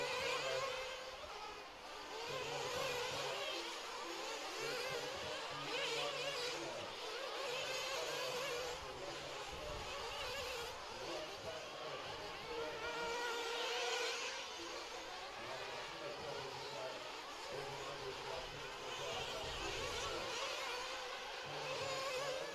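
Steady whirring buzz of RC truggies and electric buggies racing around a dirt track, engines rising and falling as they pass, heard continuously at a moderate distance with no clear talk.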